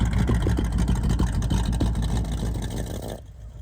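A 1982 Jeep Scrambler with a 401 engine, an aftermarket cam and 3.5-inch exhaust idles with a loud, choppy, loping rumble, then the sound drops off sharply at the end.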